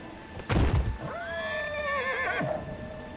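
A horse in Dragon Age: Inquisition whinnies in a long, wavering neigh after a burst of thudding hoof sounds, set against steady game ambience.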